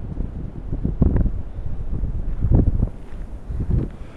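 Heavy wind buffeting the microphone, a continuous low roar with gusty surges.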